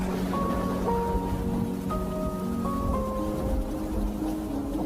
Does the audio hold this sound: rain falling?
yes